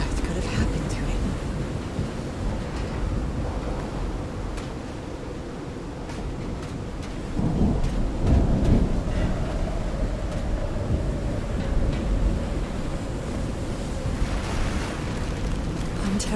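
Stormy wind and surf roar steadily across the reefs of Call of the Sea, a dense rumbling wash that swells louder midway, with occasional deeper booms like distant thunder, loud throughout.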